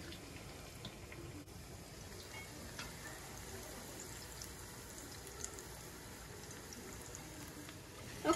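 Vada frying in hot oil, a faint, steady low sizzle and bubbling throughout with no talking.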